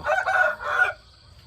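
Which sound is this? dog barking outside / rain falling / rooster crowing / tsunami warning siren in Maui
rooster crowing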